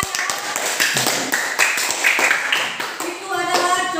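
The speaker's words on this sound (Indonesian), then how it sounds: "Tepuk tangan semuanya." Clapping from a classroom group rises for a few seconds, mixed with voices talking over it, moderately loud and close.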